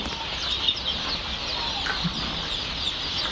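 Young Fayoumi chicken chicks on a farm, a constant chorus of thin, high peeping and soft clucking over a steady background hiss, with no talk.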